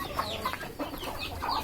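Hens cluck softly near a coop, a few short, quiet calls spaced irregularly over low background noise.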